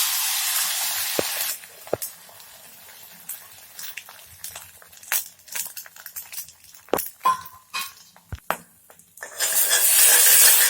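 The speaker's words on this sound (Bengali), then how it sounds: "ডিমটা ভুজিয়ে বানিয়ে নেব।" Beaten egg with salt frying in a pan, sputtering and crackling in scattered sharp pops and short hisses over a quiet background, with a louder steady sizzle at the start and end.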